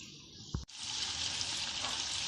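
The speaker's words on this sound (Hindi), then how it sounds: "ये मैं इनको डीप फ्राई नहीं कर रही, शैलो फ्राई कर रही हूँ।" Seekh kebabs shallow fry in oil on a tawa, with a steady close sizzle, a short thump as something is handled, then a louder, continuous hiss; no one talks.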